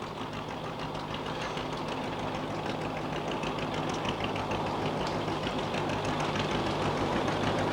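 A recently restored John Deere tractor rolls past in a centenary parade, its steady engine chugging and rumbling at moderate distance with a continuous low drone and no talk.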